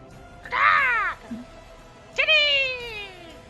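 A cat gives two loud, close, drawn-out meows, the second longer and more strained, with a brief quiet murmur between them.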